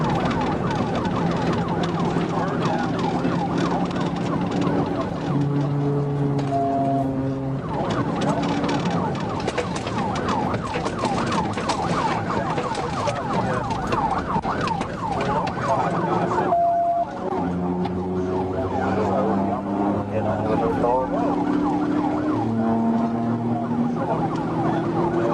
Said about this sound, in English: With sirens lit, the chase was on.